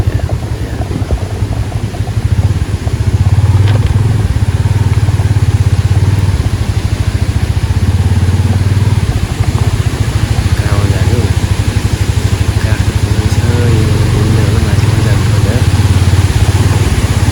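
A Yamaha FZ250 motorcycle rides off road along a footpath, its engine droning loud and close for the whole stretch with shifting throttle, while a voice speaks over it at times.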